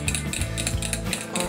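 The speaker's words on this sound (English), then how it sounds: "for now, I just have a fork to mix" Fork mixing tiramisu cream in a bowl, close rhythmic scraping and clinking strokes repeating quickly without pause.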